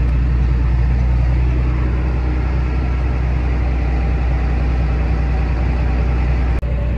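A tractor drives across a muddy soybean field at harvest, its heavy engine holding a steady, loud low drone from inside the cab with a brief thump near the end.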